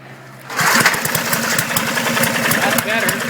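A Briggs and Stratton 8HP engine on a Powermate 3250 generator, with a leaking carburetor, fires up after a quiet moment and runs loud and close with an uneven, rough, lumpy rhythm.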